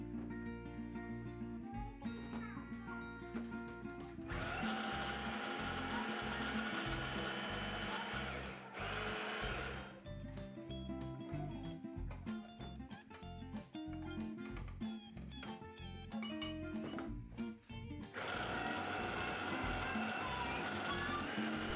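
A food processor runs in several bursts, mixing butter with added flour into a quiche dough, its steady motor whir starting and stopping over soft background music.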